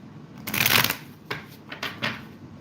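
Tarot cards being shuffled by hand, a burst of riffling and sliding followed by several shorter shuffles, close and fairly quiet with no talking.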